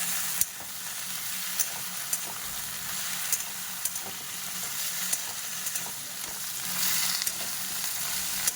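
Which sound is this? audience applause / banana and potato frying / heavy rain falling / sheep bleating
banana and potato frying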